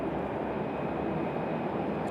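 A Breeze Airways Airbus A220-300 airliner arriving at Raleigh-Durham airport gives a steady, broad jet roar, fairly distant and even throughout, with no voices.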